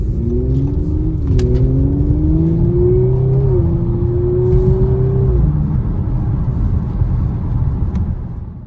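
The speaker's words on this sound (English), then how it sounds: "Here we are driving the RS5." A 2019 Audi RS5 pulls hard from inside the cabin, its engine note climbing steadily through one long gear with a brief dip at a shift, rumbling loudly and continuously before settling into a steady cruising drone.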